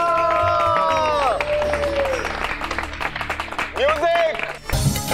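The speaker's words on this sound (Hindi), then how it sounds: "तालियां।" An audience applauding at a televised dance segment, with a burst of broadband clapping after voices and tonal sounds.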